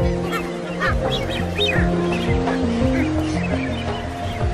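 Masked boobies calling at a nesting colony, a dense overlapping chorus of honking, goose-like cries from many birds, near and loud with constant background chatter.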